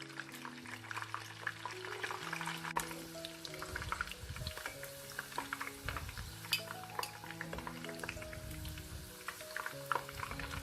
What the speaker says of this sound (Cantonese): 炸一炸呢個蒜頭， 唔使炸到太燶嘅，炸到少少微黃就可以撈翻佢出嚟